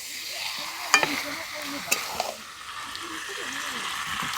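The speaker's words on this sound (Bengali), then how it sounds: "মাঝে নাড়াচড়া করে কিন্তু মাংসটা খুব ভালোভাবে কষিয়ে নিচ্ছি।" Chicken pieces and potatoes frying in a pan for biryani, with a steady sizzle and occasional sharp scrapes and clinks of a spoon stirring, close and fairly loud.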